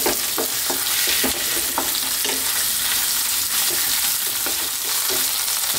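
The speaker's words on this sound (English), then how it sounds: "we need to fry this around again on this same heat. Stirring it pretty much all the time now." Spinach frying with garlic and onions in a hot pan makes a loud continuous sizzle, with repeated scraping taps of stirring throughout, close and without talk.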